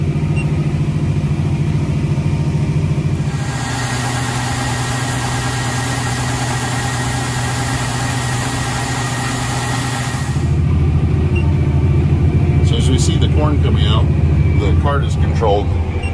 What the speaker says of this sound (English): There's a lot of corn pouring out all at once.